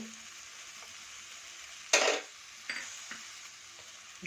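Cinnamon, cloves and garlic fry quietly in a pan for a chickpea masala sambar, a soft low sizzle with a sharp clatter near the middle and a few lighter taps after it, close but faint.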